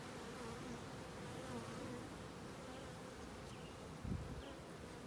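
Honey bees buzzing around an open hive during a spring inspection, a steady dense hum throughout with one brief knock near the end.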